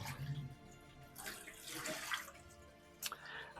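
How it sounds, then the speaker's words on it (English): Water runs from a tap during home brewing of a triple IPA, a steady rushing hiss that swells and eases with a few brief splashy surges, fairly quiet and with no talking. "So we're going to turn the tap on. We're going to get some water flowing."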